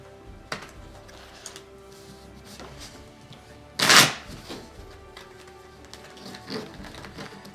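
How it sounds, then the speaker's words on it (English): A deck of Star Wars Armada game cards is shuffled on a tabletop, with scattered light card taps and then one loud, brief riffle in the middle, no speech. "Let me give my deck a quick shuffle"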